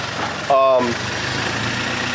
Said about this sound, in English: The car has a rough idle because it's not tuned yet.